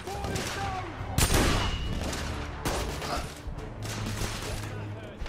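Dense gunfire from The Order: 1886, with loud close bursts and several heavy cracks over a rumbling background, while someone talks over the shooting.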